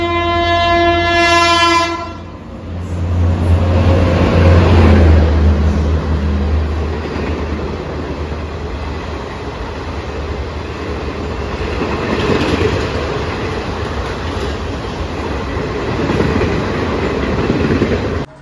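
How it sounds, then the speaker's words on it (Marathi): A non-AC double-decker Indian Railways train arrives at a station platform, its horn sounding loudly at the start, followed by a long continuous rumble and clatter of rolling wagons close by. "उदवाडाच्या फ्लॅट क्रमांक 3 नंबरला आपली ट्रेन आली आहे आणि प्रवासी वर्ग देखील येतोय"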